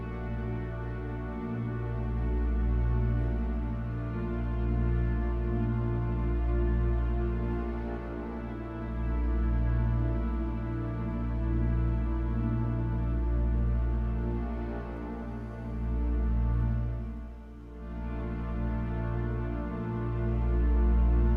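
Warm, sustained analog-style synth pad chords from a Korg workstation swell and shift slowly, rich and steady throughout with no voices.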